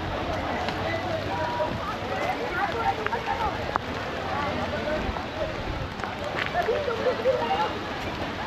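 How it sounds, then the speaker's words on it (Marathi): Heavy rain pours at Tiger Point, a hilltop viewpoint, making a dense, steady hiss that fills the whole scene, while people talk and move about close by underneath the downpour. "खतरनाक पाऊस चालू झाला इथे"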